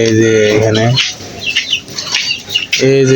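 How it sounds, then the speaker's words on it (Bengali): A pigeon takes off with a quick burst of flapping wings, close by, between stretches of a clucking, crowing fowl nearby. "এই যে একটি কবুতর উড়াল দিল"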